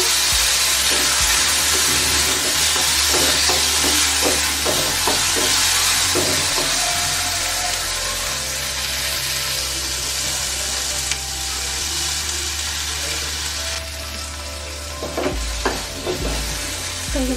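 A tomato frying with small onions in a pan gives a continuous hiss and sizzle, broken by irregular stirring clicks and scrapes, close and loud throughout.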